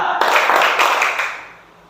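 Children in a classroom game clap three times together, producing a loud, ragged wash of many hands that blurs into one sustained burst before fading into the room.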